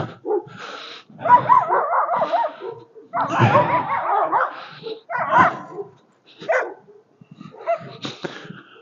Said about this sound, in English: Bark at the fence.